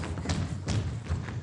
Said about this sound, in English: Simon says, jump up and down.